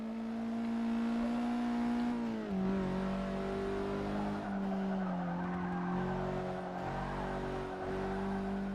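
A raspy little four-cylinder hot hatch engine in Forza Motorsport 6 drones steadily at high revs, dipping briefly between gear changes, with tire squeal and skidding layered over the constant engine note and no talking.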